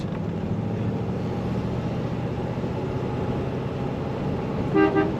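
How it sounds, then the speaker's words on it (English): A 1956 Buick Special four-door hardtop sounds its factory horn once, a loud, brief blast near the end over a steady background hum. "Factory horn, nice and loud"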